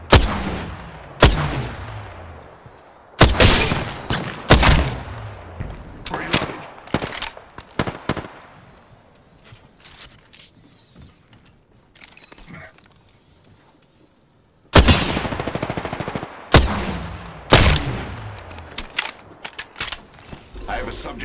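Gunfire in the video game Apex Legends comes as loud, sharp bursts of rapid shots with mechanical clacks, clustered at the start and again later after a quieter stretch with faint voices.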